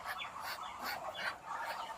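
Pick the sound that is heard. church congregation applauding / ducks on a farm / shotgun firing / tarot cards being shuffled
ducks on a farm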